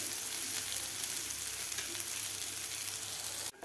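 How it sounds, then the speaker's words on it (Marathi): Whole brinjals for a village-style steamed stuffed eggplant dish sauté in a pan with a steady, dense sizzle at close range, continuous and even until it cuts off abruptly near the end. "आता व्यवस्थित आपल्याला हे 2 ते 3 मिनिट परतून घ्यायचे आहेत वांगे।"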